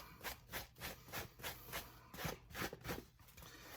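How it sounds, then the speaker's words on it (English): A sponge rubbed back and forth over a ball cap while cleaning it, a rhythmic series of soft close scrubbing strokes, faint and alone. "I'm just going over with the sponge. And I'm going over it a little bit with the coarse part"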